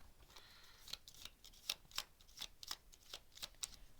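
A deck of cards is shuffled during a Power Rangers: Heroes of the Grid board game, making quiet, rapid riffling and snapping bursts in an uneven rhythm. There is no talking.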